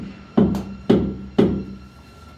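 Three firm mallet taps knock ceramic wall tiles into place in a bathroom tub-area installation, evenly spaced dull thuds close up with a faint steady hum behind.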